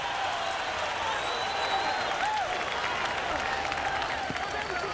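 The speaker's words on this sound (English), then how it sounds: "Forum crowd rises to its feet after a brilliant fourth round." Boxing arena crowd at the Forum cheering and applauding after a fourth round of Barrera vs McKinney, a steady, dense roar of claps and shouts filling the whole stretch without letup.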